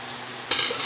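Chopped green chillies and tomato dropped into a hot pan while making semolina upma, a steady sizzle that swells into a louder burst of frying halfway through, close and with no talking.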